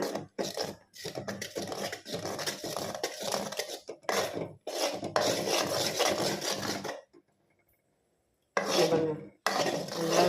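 Gram flour cooking in ghee for Mysore pak over a low flame, heard as steady scraping and stirring in a pan with metallic utensil clinks, broken by a pause of near silence before the stirring resumes.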